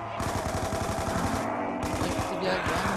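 Rapid bursts of automatic gunfire from a PDW in Call of Duty: Black Ops 2 Zombies mode fill the clip, dense and loud, with rattling shots running almost without pause.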